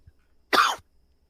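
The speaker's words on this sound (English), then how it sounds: "I was coughing." One abrupt cough sounds close to the microphone, brief and rough, surrounded by quiet.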